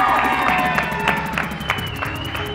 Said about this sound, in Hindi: बहुत सारी तालियां हदील के लिए